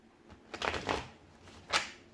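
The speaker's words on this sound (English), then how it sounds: "I need to shuffle once more" A tarot card deck shuffled by hand, with two soft close riffling bursts in quick succession followed by a brief pause and one sharper final riffle, in a quiet room.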